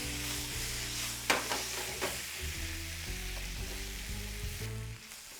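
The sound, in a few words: sherry vinegar splashed into hot pan with shishito peppers, sizzling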